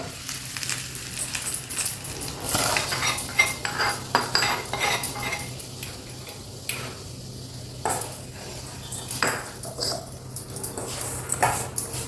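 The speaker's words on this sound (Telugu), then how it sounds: "ఇప్పుడు ఇందులోనే కొన్ని గుమ్మడి గింజలు కూడా వేసి చక్కగా వేయించుకోండి" Almonds, cashews and pumpkin seeds roast in a pan for ragi laddu, giving a steady dry sizzle with repeated scraping and clinking of a utensil against the metal, fairly close and continuous throughout.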